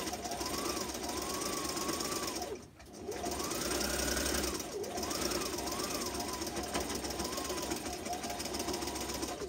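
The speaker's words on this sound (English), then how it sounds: "I'm going to start at this end with my pressure foot and I'm going to sew" A sewing machine stitches a fabric face mask in long steady runs, its motor humming with a rapid needle chatter that rises and falls in pitch, pausing briefly once and then resuming; a voice talks over it.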